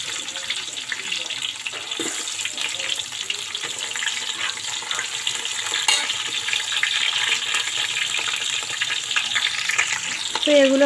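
Potatoes and onions frying in a pan in a home kitchen, a steady crackling sizzle that runs continuously and grows slightly louder toward the end, with faint stirring and clatter and no talk.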